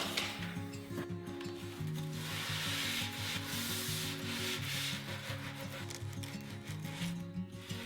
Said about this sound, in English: I do want to sand this corner here. It's quite sharp